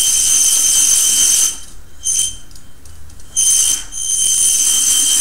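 Small BeetleBot robot kit motors from Solarbotics starting up, a steady high-pitched electric whine that cuts out briefly and then resumes, close and fairly loud with no talking.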